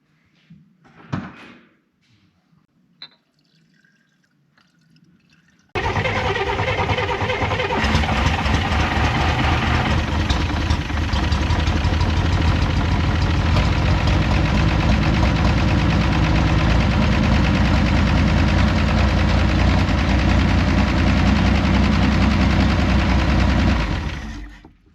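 A 1965 Corvair engine on dual Rochester carburetors cranks and catches after a few faint knocks, then runs steadily and loudly for nearly twenty seconds with a rough, throbbing idle before cutting off.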